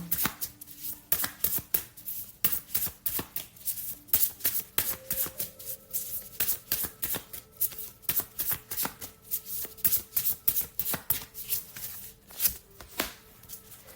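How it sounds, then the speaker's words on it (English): Tarot cards riffle and shuffle in a steady run of dense, crisp flutters and taps, close and fairly quiet, with no voices. "I'm going to draw a second card for you."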